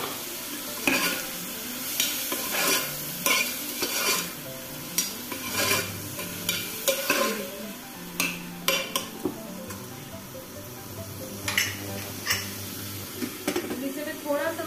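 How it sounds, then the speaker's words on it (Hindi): Chopped tomato drops into spices sizzling in a pan for palak mix khichdi and is stirred, with a steady sizzle under frequent utensil scrapes and clinks against the pan, and a voice at times. "अब यही पे कटा हुआ टमाटर डाल देती हूँ।"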